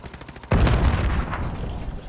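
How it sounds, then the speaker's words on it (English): A gunshot in the video game Modern Warfare, a sudden sharp blast that cuts in mid-clip and rolls into a dense, sustained burst of gunfire noise, loud and close. "I hear a gunshot, I think, maybe?"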